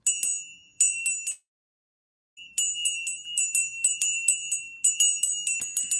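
A small bell rings in quick bright bursts, stopping for about a second and then resuming in a steady, repeated run of clear, close strikes with no talking.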